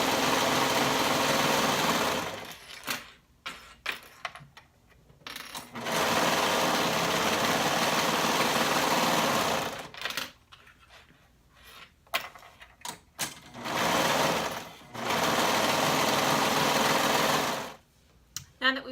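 A sewing machine stitches the side seams of a bodice in loud, steady whirring runs of a few seconds each, separated by short pauses with faint handling clicks.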